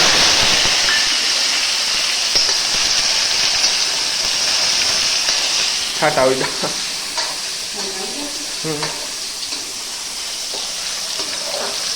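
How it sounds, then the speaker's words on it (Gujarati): Tomato, curry leaves, ginger and chillies drop into hot oil with cloves for a tempering, and a loud, steady close sizzle and hiss fills the whole stretch while short bits of conversation come through over it. "હવે આનો વઘાર કરી નાખીએ. હા. એ નાખી ટમેટો ને લીમડો."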